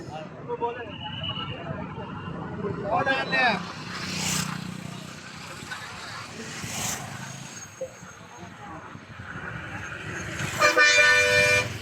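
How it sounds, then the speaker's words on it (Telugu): Heavy road traffic jam on a one-way road near a stadium in Anantapur, with engines rumbling and several car horns tooting at intervals, one loud honk near the end, while people talk in the background. "అలాగే ట్రాఫిక్ కూడా ఎక్కువ ఉంది"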